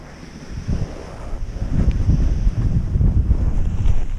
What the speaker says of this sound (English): the wind finally came into shore